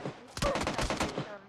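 A quick burst of PUBG Mobile gunfire cracks out in a rapid string of about eight sharp shots, fairly close and loud, from a duo-versus-squad match.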